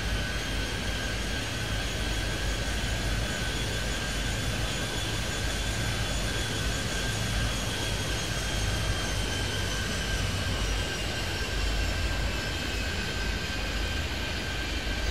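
In the Airport Madness 3D video game, an airliner takes off on a runway at Kingston, with a steady, dense jet engine roar and whine that holds constant throughout.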